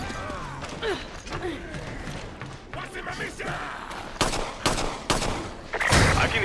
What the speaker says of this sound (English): can hear gunfire